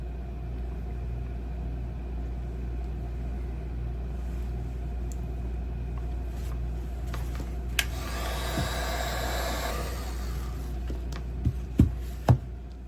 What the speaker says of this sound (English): So I've got my heat gun here, and we're just going to run through and heat these up and shrink that tubing down.